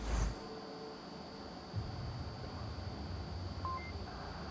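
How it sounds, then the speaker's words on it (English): Round-start beep in the VR shooter Onward, a couple of short, clean electronic tones sounding faintly over a quiet, hissy background. "I heard the beep. I'm not going crazy. I hear that beep in my sleep, folks. But that is a beep."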